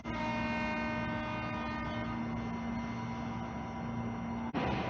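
A KRL Commuter Line electric train runs steadily with a continuous rolling drone and a sustained electric whine, ending in a sudden jolt near the close.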